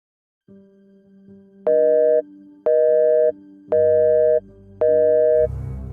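A telephone busy signal beeps four times in an even rhythm over a steady low tone, loud and close.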